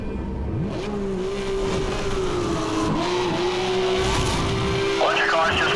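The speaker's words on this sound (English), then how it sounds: "Bunch of cars just went near and by me" Cars rush past in the Need for Speed Hot Pursuit racing game, with engines revving and their pitch sliding as they pass close by, under a continuous loud engine drone and a brief tire squeal near the end.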